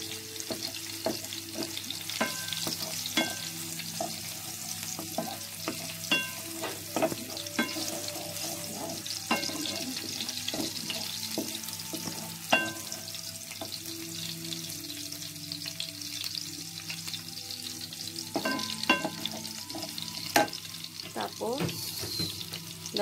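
Garlic sautéing in oil for ginisang ginamos (bagoong with tomato), sizzling steadily through the whole stretch with repeated clinks and scrapes of a utensil stirring the pan, close and fairly loud with no talking.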